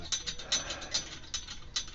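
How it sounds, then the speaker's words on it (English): A stainless steel cable is drawn taut by turning a turnbuckle during trimaran boat building, giving a steady run of fine, close metallic clicks and ratcheting ticks with no talk. "Now we take the turn and we turn it the opposite way, and we tighten this thing up,"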